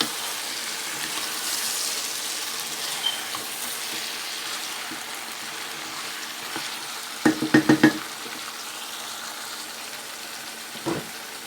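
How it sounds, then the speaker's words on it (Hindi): Ridge gourd (turai) and onion fry on a medium flame in a pan, a soft continuous sizzle broken by a quick cluster of sharp clatters from stirring and one later knock, with no talk. "इनको डाल के फिर मैं मीडियम फ्लेम पे रख दूँगी तुरई को और अनियन को"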